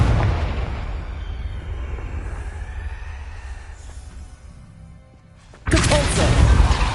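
Confringo, a fire spell cast in Hogwarts Legacy, bursts in a loud crashing explosion that fades into a rumbling tail, and a second sharp blast hits near the end.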